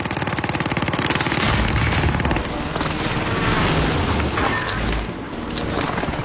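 Allied precision airstrike in Warzone: dense, continuous rumbling explosions and rapid crackling gunfire fill the whole stretch, loud and close, with heavy booms rolling under the chatter of shots.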